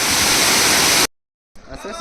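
Hogenakkal waterfall roars loud and steady as a dense wash of falling water, then cuts out abruptly before returning fainter and distant.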